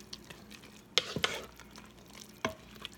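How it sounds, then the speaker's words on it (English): Spaghetti is stirred in a pressure cooker, with a few distinct scraping clinks of utensil against the metal pot and soft sloshing of the pasta, close and fairly quiet. "I'm going to go ahead and give it a stir."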